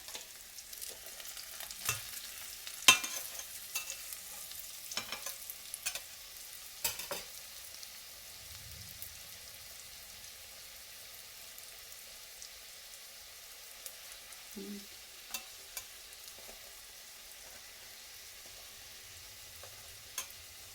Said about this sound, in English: Flip them over now, and we're gonna fry the other side.